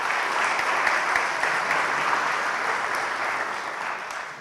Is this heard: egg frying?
no